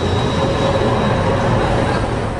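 A tram passes in Potsdam, giving a steady, loud rail rumble with a faint high whine throughout, close by and with no voices.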